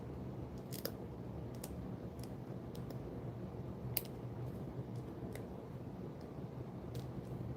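Scissors snip at craft ornaments in a quiet room, making a string of faint, sharp clicks at irregular intervals over a soft background hiss, with no talking.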